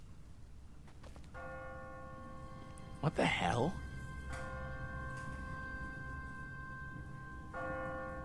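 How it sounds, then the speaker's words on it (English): An automatic church bell on a timer rings in The Walking Dead video game, sustained tolling tones that hang and decay under ambient noise, with a short startled voice cutting in partway through. "What kind of church bell goes off at 20 past the hour?"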